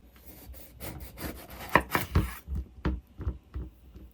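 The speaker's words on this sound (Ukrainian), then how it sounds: "Наступний інгредієнт це диня. Розрізаю її навпіл." Knife slicing a firm melon in half, with crisp cutting strokes and rubbing sounds, a few sharp clicks and thuds as the blade moves through.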